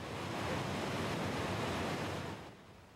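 The water of Cuyahoga Falls tumbles into the valley as a loud, steady rushing roar that fades away at the very end.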